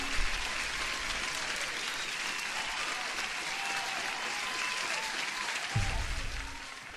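An applause sound effect played over a live futures day-trading stream: steady, dense clapping and light crowd noise fills the whole stretch at moderate level, with a brief low thump near the end as it fades.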